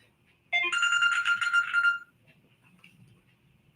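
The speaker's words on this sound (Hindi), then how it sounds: "माफ़ कीजिएगा, एक फ़ोन आया मुझे।" Mobile phone ringtone from an incoming call rings loud and close for about a second and a half of bright repeated tones, then cuts off, leaving quiet room hum.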